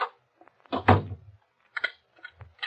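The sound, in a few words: door closing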